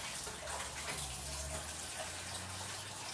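Cold tap water gushes steadily into a small bowl in a kitchen, a continuous close splashing flow with no talk over it.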